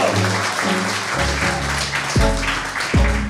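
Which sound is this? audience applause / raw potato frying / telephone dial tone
audience applause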